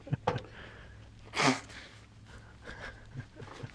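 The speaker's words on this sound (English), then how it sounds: "Where was I before I sneezed?" A single close sneeze bursts out in a podcast studio, loud and breathy, with quieter sniffs and snorting breaths before and after it.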